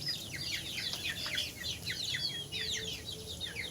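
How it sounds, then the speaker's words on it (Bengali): Two-month-old native chickens, young hens and cockerels on a farm, keep up a busy, continuous chorus of high peeps and soft clucks, fairly close and steady throughout. "তো 2-1টা মোরগ ডাকা শুরু করে দিয়েছে।"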